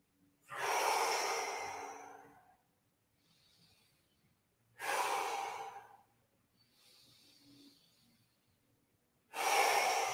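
Slow, deep breaths during a yoga twist, three long airy inhale-exhale swells spaced a few seconds apart, close and quiet with no talk.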